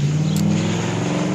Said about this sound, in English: It's a car turning around.